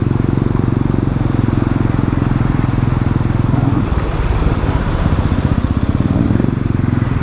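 A motorcycle engine drones loud and close as the bike pushes through knee-deep floodwater on a highway, with a steady pulsing putter and a churning wash throughout.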